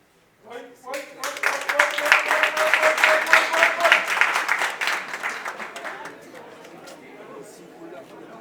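Audience at an official installation ceremony breaking into applause that swells quickly, holds as dense clapping for several seconds, then tapers off, with a voice speaking over it and crowd chatter.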